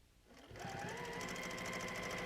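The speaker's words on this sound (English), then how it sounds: "So now I go back down again on the opposite sides, crisscrossing at the intersection of that block." A sewing machine stitches quilt block seams, starting up after a brief quiet moment and then running at a steady, fast whirring hum close by, with no talk.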